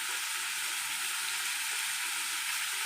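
Asafoetida powder sizzling in hot oil for lemon rice, a steady, close hissing fry with faint stirring and no pauses throughout.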